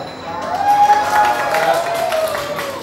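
Wedding guests applaud and cheer as a crowd, a steady wash of clapping with voices mixed in, fairly loud and continuous throughout.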